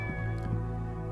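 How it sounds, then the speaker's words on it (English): A cat in the video game Shenmue meows in a short, soft call over a steady background hum of game ambience. "I hear kitty meowing."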